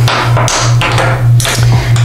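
Light metallic taps from a small hammer ring out several times over a steady low hum.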